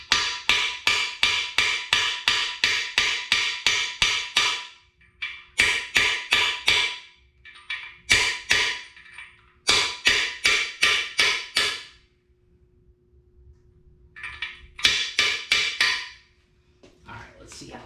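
A hammer tapping a part into place on a small block Chevy engine, sharp metallic blows in fast rhythmic bursts separated by short pauses, loud and close.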